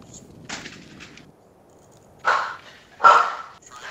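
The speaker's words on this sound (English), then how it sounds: "God damn it, dogs." Dogs in the Dino Bros video game bark in a few short separate bursts, the last two louder and closer, with quiet background between them.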